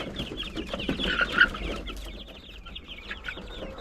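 Hens clucking in a backyard flock of about thirty-two birds, several soft overlapping clucks close by over faint ambient noise, with no talk.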